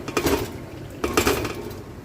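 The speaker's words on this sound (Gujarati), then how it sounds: "આ બટેકાનો માવો છે. નાખી રહ્યા છે અહીંયા." Mashed potato being added to a pot of simmering ragda with ginger-chilli-coriander paste and stirred, heard as two bursts of metallic clanking and scraping of a spoon against the pot, close and fairly loud.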